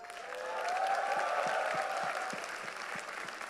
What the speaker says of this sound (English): So give a cheer for her as well.